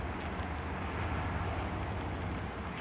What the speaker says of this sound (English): It has a 454 Chevy V8 engine.